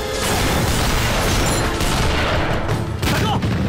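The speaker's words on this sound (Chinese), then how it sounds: "光知道开炮，连个人影也不见" Cannon fire in a kung fu action film battle scene, a dense barrage of booming blasts and crackling explosions filling the whole stretch at high loudness, with a brief dip near the three-second mark.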